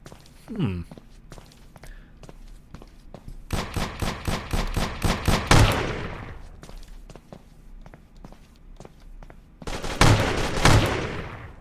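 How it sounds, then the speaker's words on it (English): Shotgun fire in a video game set in a bomb bay: a rapid series of loud blasts near the start of the second half, then a pair of booming shots later, with footsteps and a voice talking in between. "It's a shotgun."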